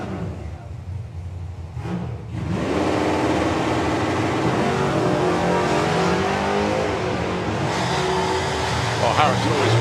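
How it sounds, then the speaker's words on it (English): Cars launching down a drag strip at a Dragstalgia event, including a Chevrolet Camaro, roar at full throttle in a loud sustained engine blast after a short quieter lead-in, with a faint announcer-like voice underneath. "Harrison Brown with Valadu Camaro, 1072 is the target"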